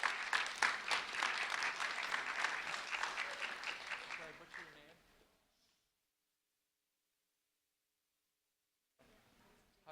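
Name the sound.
audience applauding four students called up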